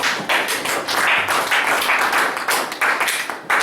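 A church congregation applauds in acclamation during a French-language service, a loud, dense burst of clapping that continues steadily throughout.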